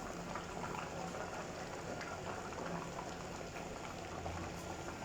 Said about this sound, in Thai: มาต้มข้าวต้มเด้อจ้าเด้อ